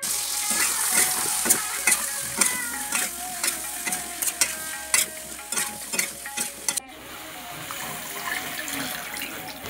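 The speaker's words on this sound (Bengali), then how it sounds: "দিয়ে দিলাম কড়াইয়ের মধ্যে, এবং খুব ভালো মতনভাবে আলুটা কষিয়ে নিচ্ছি" Potatoes and cauliflower fry in a wok while a spatula scrapes and tosses them in quick, repeated strokes over a loud sizzle, then the stirring stops and only a steady sizzle remains.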